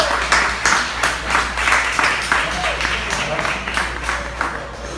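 A stand-up comedy crowd claps and cheers as a comedian from Denver, Colorado walks onstage, a lively, moderately loud wave of applause with whoops that slowly tapers off.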